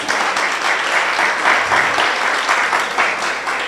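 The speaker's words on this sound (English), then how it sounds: "Can you clap for this lady, please?" An audience at a memorial lecture applauds a woman invited to the stage, a loud, sustained burst of many hands clapping with a slightly pulsing texture and no talk over it.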